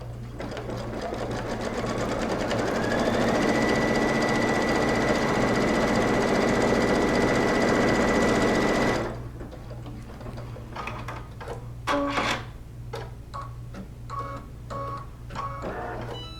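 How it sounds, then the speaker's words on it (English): A sewing machine stitches a line across a quilt strip for a strip heart, running loud and steady for about nine seconds before stopping, followed by quieter handling noises and fabric rustle. "I'm going to go ahead and sew the next line and then trim it like I did the first one."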